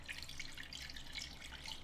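Clam juice from the pot where the clams sat is poured into a dish of linguine and red clam sauce, making a steady close-up splashing trickle with no talking.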